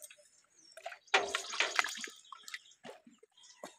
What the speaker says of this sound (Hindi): चिकन को काटने से पहले इसको धोना जरूरी है, तो फिलहाल इसको धो देते हैं फटाफट